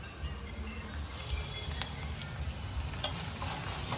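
Chilies fry in a pan with a steady, close sizzle, with light scraping and stirring clicks throughout.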